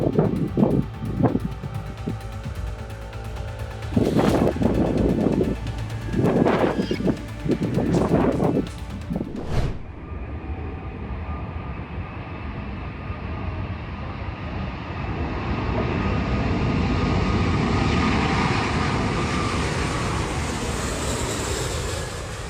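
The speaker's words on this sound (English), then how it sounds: "Hurricane Kathleen wreaked havoc on a Boeing 737 when it landed against the wind." Boeing 737 landing against strong hurricane winds during Hurricane Kathleen, with loud gusty rumbling and bursts of roar early on, then a sustained engine whine and wind roar swelling and holding to the end.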